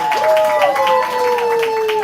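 Audience at a live poetry slam cheering and clapping for a poet, a dense crowd roar with whoops and a sustained whistle-like tone running through it, loud and continuous for about two seconds.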